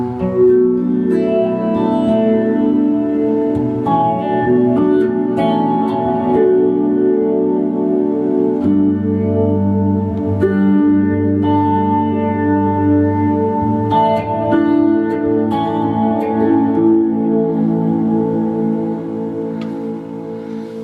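Sustained electric guitar chords ring out with a lush, spacious reverb from a TC Electronic Plethora X5 pedal, notes blurring and trailing into one another with no talking.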